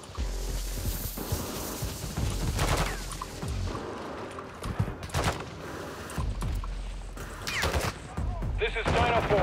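Call of Duty MWII DMZ gunfire: bursts of shots and heavy volleys crack through the game's battle noise, with radio-style voices talking over the action.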